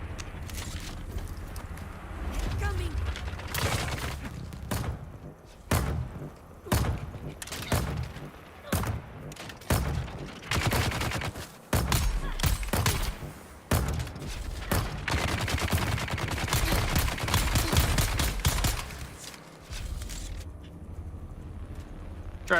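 Minigun fire from enemies in Dune: Awakening, long rapid bursts of loud gunfire broken by short pauses and scattered thuds, with someone talking over the shooting.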